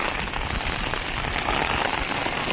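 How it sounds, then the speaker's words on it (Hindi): Heavy rain pours steadily and loudly on a mountain camping trip in deep jungle, a dense unbroken hiss filling the whole stretch with no voices over it. "बारिश काफ़ी तेज़ हो रहा है"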